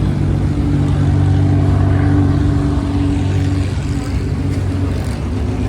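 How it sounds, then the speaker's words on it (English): A vintage Bugatti 35B race car at a historic race meeting, its engine loud and near, droning with a steady revving tone that swells, then eases slightly, without talk. "Okay, we have another Bugatti."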